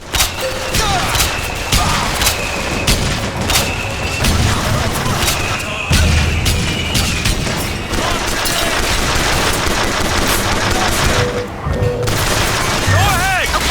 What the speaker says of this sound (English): Booker, flak cannon!